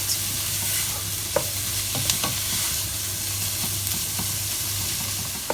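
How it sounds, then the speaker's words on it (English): Minced beef for a Bolognese ragù sizzling steadily as it browns in a pan, with occasional clicks of a spoon stirring, close and continuous with no talking. "You just want to cook it until all the mince is browned."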